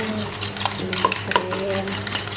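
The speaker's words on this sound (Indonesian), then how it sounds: "Habis masukin garam diapain telurnya? Dikocok." Eggs with salt being whisked in a bowl, a steady busy clatter of utensil against the dish with some brighter clinks, close and fairly loud.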